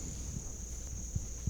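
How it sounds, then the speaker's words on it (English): A crickets chirping sound effect: one steady, thin, continuous high chirr that runs unbroken for a moment, with a couple of soft low thumps beneath and no voices. "Anytime you talk, we put the crickets in."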